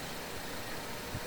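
A 2014 Ford Escape engine idles steadily up close, a continuous broadband rumble and hiss with no speech.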